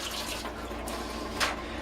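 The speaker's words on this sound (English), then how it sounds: "Wash the old hands, because we're going to continue now to wrap." Hands are washed under a running kitchen tap after handling pork and red pepper, giving a steady rushing splash with a brief louder spatter near the end.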